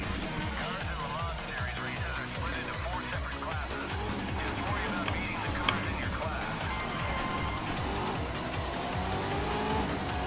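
Aston Martin race car launching off the line at Spa in the GRID racing game, a loud harsh engine climbing through rapid gear changes with tyre noise, continuous and close throughout.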